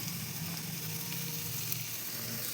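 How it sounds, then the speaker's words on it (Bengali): Carrot, capsicum and chopped green chilli frying in a pan for veg momo filling make a steady close sizzle, ending in a brief louder clatter. "একটু ভেজে নেব।"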